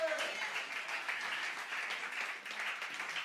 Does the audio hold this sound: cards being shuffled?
no